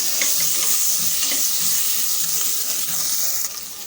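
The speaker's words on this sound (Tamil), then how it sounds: "இஞ்சி துருவல் சேர்த்து மிக்ஸ் பண்ணி விட்டுக்கலாம்" Grated ginger is stirred into chillies frying in a pan, a loud close sizzle with rhythmic scraping strokes that eases near the end.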